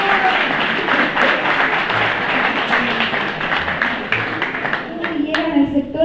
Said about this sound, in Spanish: El aplauso también para ellos.